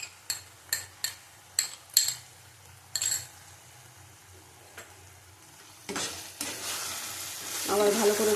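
Masala of tomato and yogurt sautéed in a pan for a Bengali taro dish, with a spoon scraping and clinking against the pan in a quick run of strokes, then a louder sizzle building toward the end.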